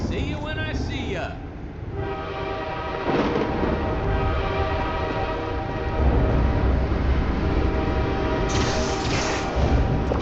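A train pulls away in Half-Life 2: Episode One, its horn sounding in long harmonic blasts over rumbling rail noise and clatter, with a character's voice speaking partway through.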